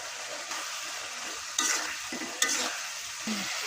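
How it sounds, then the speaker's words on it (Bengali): Mirka fish is stirred and fried in tomato spice masala, close scraping stirs coming in short bursts over a constant bright sizzle. "একটু মশলার সাথে একটু মাছ কষে নিয়ে তারপরে ঝোল দেবো"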